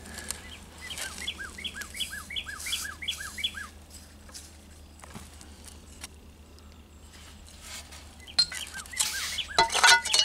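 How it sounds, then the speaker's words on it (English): Birds sing faintly outdoors at a bottle-digging site: a quick run of repeated chirps early on, then scattered softer calls, and more chirping near the end over low background noise. "Let the birds sing for a little bit, a lot better than hearing me."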